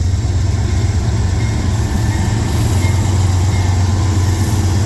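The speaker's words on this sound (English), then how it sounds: "A whole NS train, to be honest." A Norfolk Southern freight train passes nearby, a steady low rumble with rolling wheel noise and engine drone, continuous and loud throughout.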